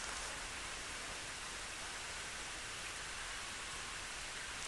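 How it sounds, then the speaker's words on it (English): Steady, soft rain falling outdoors during a retreat at Gaia House, an even hiss of drops with no gaps or voices, faint and constant from start to finish. "listening to the rain right now has complete meaning in itself"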